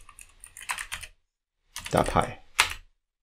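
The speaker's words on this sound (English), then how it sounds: "I will type the command pip install" Keys on a computer keyboard are typed in two short bursts of close clicks separated by a brief silence.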